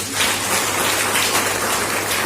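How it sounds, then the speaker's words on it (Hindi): A seminar audience bursts into loud, dense applause for a featured person at an RCM Business marketing meeting, the clapping steady and close for a couple of seconds with no talk over it. "चलिए इनके लिए एक बार जोरदार ताली बजाइए"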